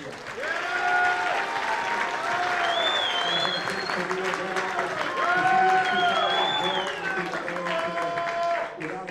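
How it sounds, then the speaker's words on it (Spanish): Sustained applause from a press conference crowd in Beverly Hills greets boxers Canelo Alvarez and Jaime Munguia, steady clapping filling the room with some cheering and voices mixed in throughout. "yo les pido un aplauso para el gran Saúl Canelo Alvarez y para Jaime Munguia"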